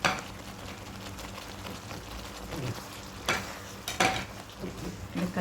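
Eggplant pieces dropped into a simmering, sizzling pot of kulambu curry gravy and stirred, with scraping and clattering bursts over a steady bubbling hiss, close up.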